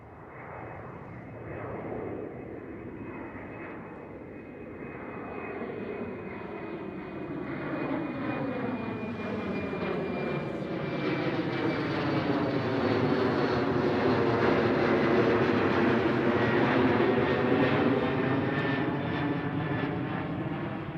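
A KLM Cityhopper airliner takes off at Schiphol, its engine roar swelling steadily louder with a sweeping whine over about twenty seconds, heard alone without voices.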